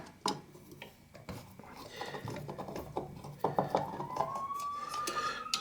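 Three screws being backed out with a Phillips head screwdriver during a universal motor repair, close clicking and scraping metal turns, a rising squeak near the end.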